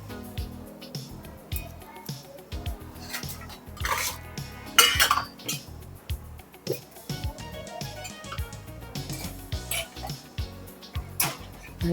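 A thick gram-flour kadhi is stirred in a pot with a spoon, giving steady scraping and clinking of utensil against metal, with scattered louder knocks and no talking.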